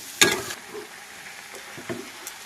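Banana flower dropped into a pan of sizzling fried prawns and crab, a sharp burst of sizzle followed by softer frying and a few stirring clatters.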